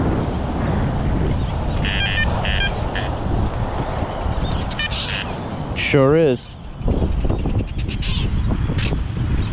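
Birds in a bird colony call repeatedly in the background, with short chirps and caws over steady wind, and someone speaks briefly in the middle.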